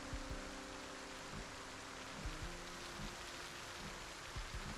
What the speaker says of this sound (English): Rain's probably hindering his ability to pinpoint where we are.